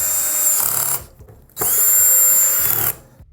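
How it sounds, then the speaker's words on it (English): A power drill fitted with an extension drives screws while a TV wall mount goes up for a Samsung QN90B Neo QLED TV, giving two loud, close whirring bursts split by a short pause. "Now I might need to put extension on my drill when I look at this."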